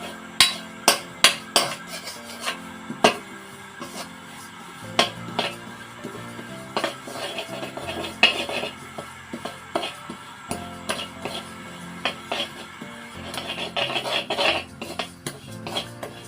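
Sesame seeds are stirred while roasting in a pan for sesame candy, with a utensil clinking and scraping against the metal. There are quick sharp knocks at first, then continuous softer scraping and rattling.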